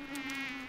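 A mosquito buzzes steadily and close, a thin continuous whine that holds for under a second with no talk over it.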